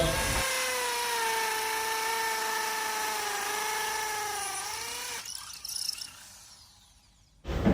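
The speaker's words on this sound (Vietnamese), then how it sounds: "Để khoan tường thì các bác chuyển máy sang chức năng hình cái búa và lắp mũi khoan tường." A Makita hammer drill in hammer mode whines at high pitch as it bores into a wall with a 12 mm bit, running steadily for five seconds before slowing and stopping, followed by clatter.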